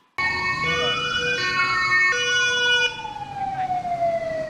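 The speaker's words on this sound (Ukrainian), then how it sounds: "Сирени виють, автівки мчать на виклик." Emergency vehicle sirens wail loudly and close during an emergency drill in Volyn, Ukraine, several overlapping tones rising and falling together before one fades slightly.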